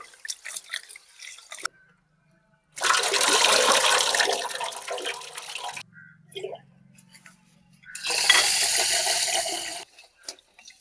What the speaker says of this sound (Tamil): நல்லா சுத்தம் பண்ணி அப்புறம் தண்ணி ஊற்றிக்கலாம்.